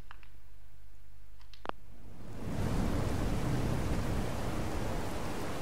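Heavy rain from the True Storms weather overhaul mod in Fallout 4 sets in as a broad, steady hiss and roar after a quiet stretch with a few faint clicks.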